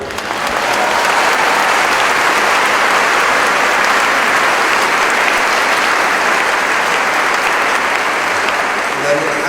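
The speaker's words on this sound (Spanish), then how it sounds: "que estos aplausos sean siempre para el Señor" Sustained, loud applause from a large audience at a religious talk in Guadalajara, a dense even clatter of clapping that holds steady throughout with no voices over it.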